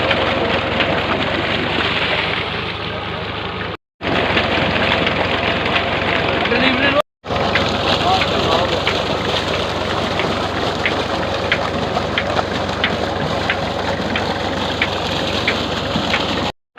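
Water gushes hard and steadily from a newly drilled borewell run by a tractor, a loud, constant splashing roar broken by two short cuts, with people talking over it.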